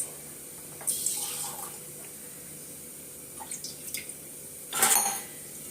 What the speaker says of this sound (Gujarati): જો આ રીતે કરીને થોડું પાણી લીધું છે કઢાઈમાં